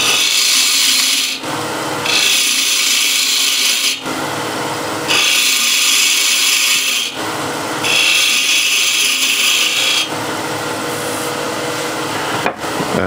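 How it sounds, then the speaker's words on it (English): Spindle gouge cutting wood on a lathe, a loud close scraping hiss that runs in long passes of a few seconds each, with short breaks as the tool lifts between cuts. "So I'll just do that with a spindle gouge."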